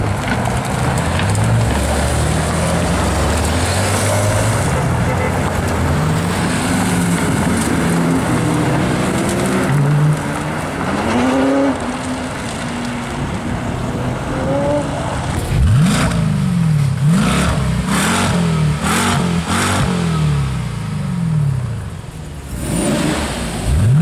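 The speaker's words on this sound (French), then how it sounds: "2 GT2 RS 918 qui arrivent, des GT3, gros convoi." Convoy of Porsche GT2 RS and 918 Spyder supercars with GT3s arriving at an outdoor Cars and Coffee meet in Luxembourg, loud engines rising and falling in repeated revs and accelerations as the cars pass close by.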